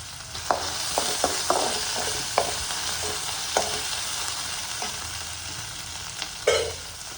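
Onion and garlic sauté in a pan, making a steady sizzle throughout, broken by scattered sharp scrapes and clicks of stirring and a louder knock near the end; no talking.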